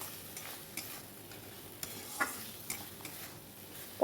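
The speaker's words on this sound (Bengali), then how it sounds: "এবার আমি ভেজে রাখা পটলগুলো দিয়ে দিলাম, আর একটু কষিয়ে নেব" Fried pointed gourd is stirred into cooked masala in a pan, giving a soft, low sizzle with scattered scraping clicks from a spoon, close and quiet.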